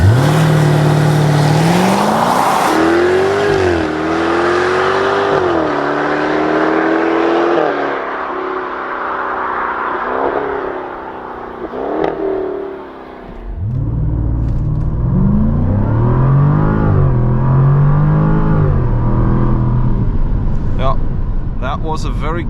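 A 575 hp 2022 Jaguar F-Type R convertible in sport mode accelerating flat out, its engine climbing loudly through several gears with sharp shift breaks, rumbling and roaring with a brief lift before surging again.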